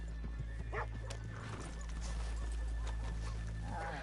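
Horses in Red Dead Redemption 2 make a low, steady rumble with faint whinny-like calls and soft hoof sounds, heard at moderate distance under ambient game noise.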